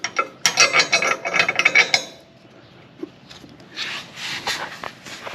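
Metal bolt threaded and ratcheted into the hitch bar of a MotoTote MTX3 motorcycle carrier, a rapid run of close clicking, rattling metal for about two seconds, then quieter scraping and handling.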